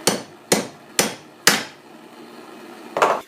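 Hammer blows upset the head of a hand-forged carving chisel, four evenly spaced sharp metallic strikes followed by a pause and a fifth hit, close and loud with no voices.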